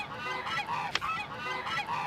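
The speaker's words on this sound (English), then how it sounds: "these loud, obnoxious, repetitive, uninspired geese" Geese honk on a farm, a loud and repetitive flock calling over and over for the whole stretch, with one sharper squawk standing out near the middle.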